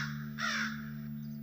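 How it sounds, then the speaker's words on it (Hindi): A crow gives a single loud, harsh caw over a steady low electrical hum, with nothing else around it. "एक कौवा चिल्ला रहा है जोर जोर से"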